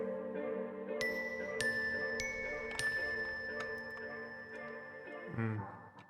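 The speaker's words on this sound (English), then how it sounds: "and then we have a glockenspiel down here." Bright, bell-like glockenspiel notes ring out in a few spaced strikes in a city pop track, their tones lingering over a warm, steady musical bed with a soft vinyl crackle.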